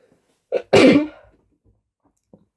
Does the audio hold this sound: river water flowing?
no